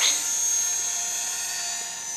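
Helicopter flying overhead, heard as a steady high-pitched whine and drone that holds fairly loud and even across the whole stretch, with no talking.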